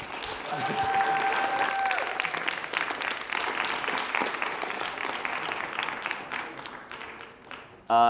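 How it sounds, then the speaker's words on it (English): Audience applause for candidates at a student election final debate, a long round of clapping from a hall full of people that swells then gradually thins, with a voice briefly heard at the end. "So one last round of applause for all the candidates not here."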